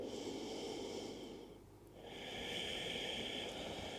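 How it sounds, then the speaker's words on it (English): A slow, deep full breath drawn in during a vinyasa yoga flow, a soft airy inhale, brief pause, then a hissing exhale, close and quiet. "Take one full round of breath here."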